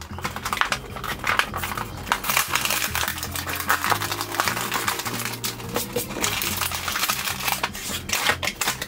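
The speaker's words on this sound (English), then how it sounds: "let's go ahead and get Vac Attack, who's powered up, out of its packaging" A Grossery Gang Vac Attack action figure is unwrapped from its plastic packaging, producing continuous close crinkling and rustling with scattered clicks and taps.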